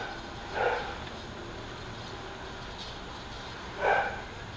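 A dog barks twice indoors, two short separate bursts a few seconds apart against a quiet room hum, moderately close and fairly soft.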